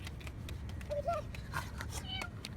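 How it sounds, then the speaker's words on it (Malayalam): A cat meows a few times, short wavering calls that stand out faintly over a steady background murmur. "ഇവിടെ പൂച്ച ഇവിടെ പൂച്ച"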